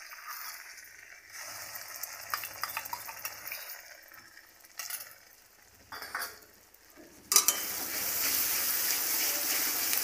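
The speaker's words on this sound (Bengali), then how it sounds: "এবার দিয়ে দিচ্ছি আমি বড় বড় 2 চামচ সর্ষে বাটা।" Mustard paste ground with a green chilli frying in a pan while a spoon stirs and scrapes it, uneven clattering strokes giving way to a loud, steady sizzle near the end.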